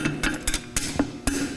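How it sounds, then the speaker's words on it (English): A hammer gently taps a horseshoe flat on an anvil, about six or seven sharp metallic taps at an uneven pace with a bright ring after some strikes, close and clear. "So all I have to do is just gently tap it down,"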